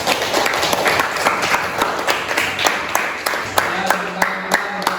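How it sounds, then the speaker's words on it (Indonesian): Students in a classroom clap for two presenters in a busy, sustained burst with sharp individual claps standing out. A voice murmurs faintly beneath the applause toward the end. "tepuk tangan dulu buat Lira dan Jessica"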